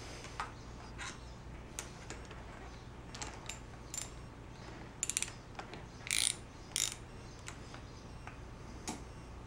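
A ratchet snugs down the bolts on a Royal Enfield motorcycle fork with scattered light ticking clicks and a few louder, quicker bursts, close up in a quiet workshop.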